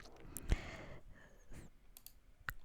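A computer mouse clicks on a website: two crisp, close clicks, one early and one near the end, over a faint quiet background.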